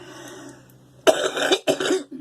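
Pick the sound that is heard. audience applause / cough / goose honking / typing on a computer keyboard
cough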